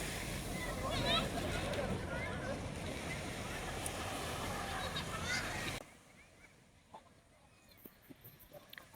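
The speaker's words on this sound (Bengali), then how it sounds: "ঢেউয়ের শব্দ শোনা যাচ্ছে" Ocean waves break on a Maldives beach with a loud, rushing surf roar and wind buffeting for several seconds, then fade to a quieter wash while someone talks.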